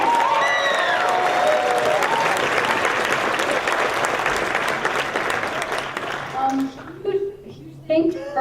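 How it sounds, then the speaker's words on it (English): A concert audience gives a loud round of applause, with dense clapping and some cheers and whoops. Near the end it thins out into a few scattered claps and voices. "give him a huge round of applause."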